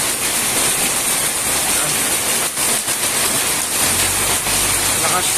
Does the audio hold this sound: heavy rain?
yes